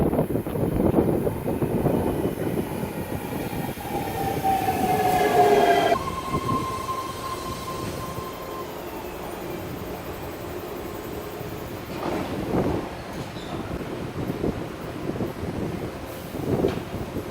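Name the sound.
BART train running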